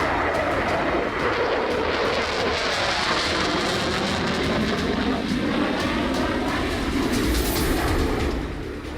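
Loud, steady roar of a Rafale fighter jet in flight, a broad sustained jet-engine rush holding evenly for the whole stretch before easing slightly at the very end, with no talk.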